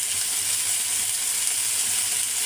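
Spice paste of turmeric, salt and dried chili powder fries in a pan for a cauliflower and fish curry, giving a steady, loud, close sizzle that holds without a break.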